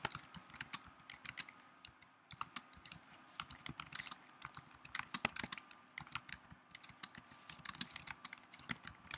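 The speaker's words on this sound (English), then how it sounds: "And I'm just typing in" Fingers tap on a computer keyboard in quick, irregular runs of light clicks, with short pauses between bursts, faint and close with nothing else in the background.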